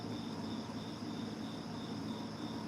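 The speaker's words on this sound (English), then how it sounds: "I like to hear the sounds of it sounds like crickets" Crickets chirping outdoors, a faint, steady high trill repeating in even pulses over soft background hiss.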